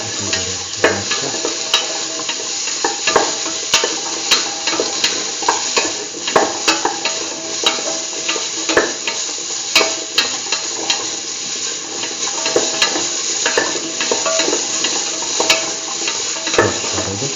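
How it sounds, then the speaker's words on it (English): Beetroot pieces tossed and stirred through a curried mung bean mixture in a pan, giving a steady sizzling fry with frequent scraping and clattering stirs throughout, close and fairly loud, with no talking. "Toss the beetroot pieces with the rest of the mixture."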